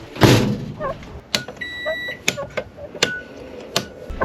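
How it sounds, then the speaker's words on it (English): A microwave oven inside a house being remodeled beeps as the power comes back on at the main breaker. Short electronic tones ring out among scattered clicks and thumps, moderately close and otherwise quiet. "Microwave came on."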